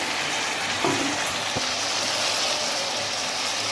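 Mutton cooks in a pan with a steady, even sizzle that fills the whole stretch, plus a couple of faint clinks and no voices.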